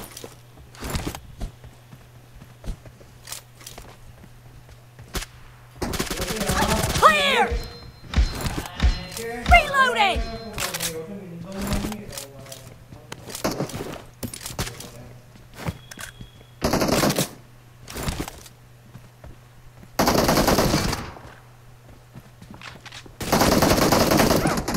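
Pistol fire in the mobile shooter BGMI during a team deathmatch: rapid bursts of shots in several separate volleys, with excited voices calling out between them.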